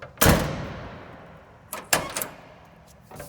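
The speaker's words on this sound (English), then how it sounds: "You hear those doors open and close." Passenger doors of a 1968 Chevrolet Camaro with automatic transmission, heard as a loud single door thud followed by a second closing thud with a quick rattle, close and alone with no talk.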